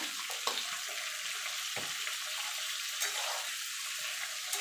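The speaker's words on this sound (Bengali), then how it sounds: "এবার এটাকে মিনিট খানিক ধরে একটুখানি ভাজা ভাজা করে নেবো।" Turmeric and Kashmiri chili powder fry in a pan for a sweet raw mango pickle, giving a steady, close, hissing sizzle with occasional light stirring clicks. No one speaks.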